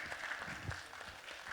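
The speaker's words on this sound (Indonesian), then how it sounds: "Boleh tepuk tangannya?" Audience at a stage policy forum applauds a presenter, a faint, dense patter of many hands clapping evenly and at a distance for a brief moment.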